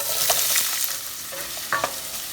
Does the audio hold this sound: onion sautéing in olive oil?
yes